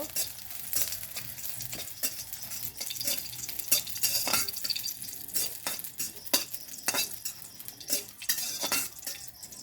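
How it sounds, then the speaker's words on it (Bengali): Chili frying in a pan over a clay stove, with a steady sizzle and repeated sharp scraping stirs throughout, fairly close and with no talk. "মরিচটা একটু ভালোভাবে ভেজে নেব"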